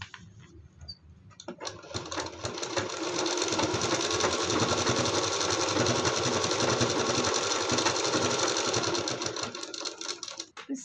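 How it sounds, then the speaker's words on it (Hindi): A sewing machine stitching the hem of a kurti, starting with a few slow stitches, then running fast and steady for several seconds before slowing and stopping, loud and close, with no talking. "सिलाई इसके ऊपर से इधर पलटते हुए चला देते हैं।"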